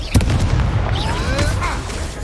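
Confringo blasting curse firing in the video game Hogwarts Legacy, a fiery boom with crackling burst and whooshing streaks, layered over dense game effects and low rumble, with a voice present.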